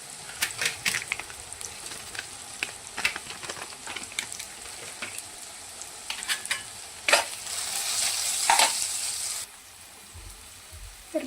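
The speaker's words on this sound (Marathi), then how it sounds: "थोडेसे नमक, थोडीशी धना पावडर आणि थोडीशी मिरची पावडर टाकून मिक्स करून घेऊया" Salt, coriander powder and chilli powder being mixed into a cauliflower and pea masala in a pan: repeated sharp spoon scrapes and knocks over a constant frying sizzle, with a louder hissing burst toward the end.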